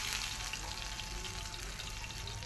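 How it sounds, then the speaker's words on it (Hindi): Potato chapli kababs sizzle in hot ghee in a pan, a steady close crackling fry with no voices. "मैं पैन में घी रख दिया, उसके अंदर इसको फ्राई करती हूँ"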